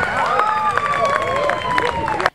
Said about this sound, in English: The crowd and fellow runners cheered on Gil Blank, who finished with 13 seconds to spare.